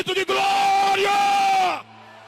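A church congregation erupts in a loud, sustained collective shout of glory, many voices yelling together in a dense roar for under two seconds before cutting off abruptly.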